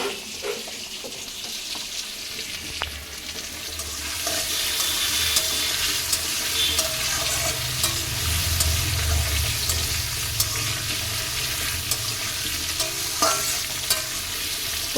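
Potatoes frying in a pan give a steady, close sizzle with stirring scrapes and occasional clinks throughout, with no voices.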